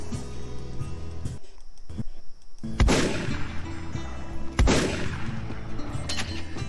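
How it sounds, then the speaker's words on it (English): Two loud, sharp blasts from a shotgun pistol in a Synty Polygon demo shooter game, spaced about two seconds apart, ring out over a steady bed of background music. "Some funky ass stuff coming off that shotgun pistol"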